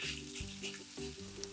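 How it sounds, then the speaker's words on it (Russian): Potatoes frying in ghee in a pan hiss steadily, with low scraping and stirring sounds cutting in a few times. "На разогретую сковороду выкладываю половину картошки и вот так равномерно распределяю"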